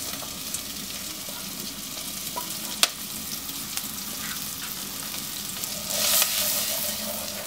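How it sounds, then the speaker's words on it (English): Onion fries in melted butter, making a steady close crackling sizzle throughout, with a single sharp tick partway through and the sizzle swelling louder near the end as it is moved in the pan. "I'm gonna add the onion right now."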